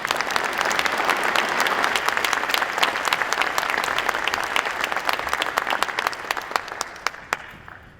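Audience at a 2015 association general session greets a speaker coming to the stage with loud, sustained applause, many hands clapping densely before the clapping thins to scattered claps and fades out.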